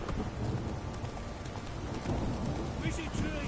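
Rain falls steadily in the video game Witcher 3, a dense continuous wash with hoofbeats and a low rumble underneath and a voice speaking briefly over it.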